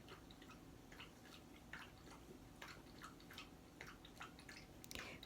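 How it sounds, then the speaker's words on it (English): A pet drinks water with soft, irregular lapping and dripping ticks, faint and close, with no talking. "That's Lilybell getting a drink of water."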